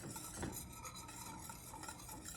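Grits casserole loosened with half and half being stirred in a pot: a soft, steady scraping and swishing, close and quiet, with no voices.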